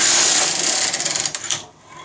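Carriage of a knitting machine sweeping across a single row, a dense rattling mechanical rush that is loud at first, then breaks into quick clicks and fades near the end of the pass.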